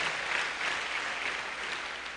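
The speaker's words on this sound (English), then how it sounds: "A round of applause for our distinguished lecturer" An audience at a university lecture event gives a steady round of applause, a dense continuous wash of clapping heard from across the hall at moderate volume.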